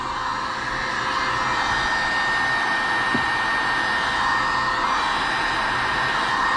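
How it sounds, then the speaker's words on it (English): A heat gun runs on its low setting, warming the ends of an old hot tub headrest hose to loosen it from its fittings; a steady, close airy blowing roar holds throughout with no talk. "now with our heat gun, we're gonna use this on low, and we're gonna apply heat to both ends of the hose"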